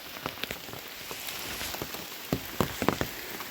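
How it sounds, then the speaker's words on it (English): Rain falling at the start of a day's hike on the Long Trail, a steady soft patter with scattered louder drops tapping close by, no voices. "It is raining as we start."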